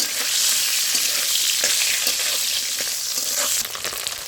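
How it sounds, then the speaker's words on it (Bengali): Pieces of drumstick (sajne danta) sizzle steadily in hot oil in a kadai, a dense continuous frying hiss with occasional small pops and stirring scrapes, close and fairly loud with no talk. "ওই তেলে আমি সজনে ডাঁটাগুলো ভেজে নেব।"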